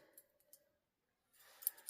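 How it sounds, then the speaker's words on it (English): Hairdressing scissors cutting fabric for DIY grunge clothing: a few faint snips and clicks, a pause of near silence, then a closer burst of crisp cutting sounds, quiet overall with no talk. "these are actually hairdressing scissors, but they work better than my fabric scissors now"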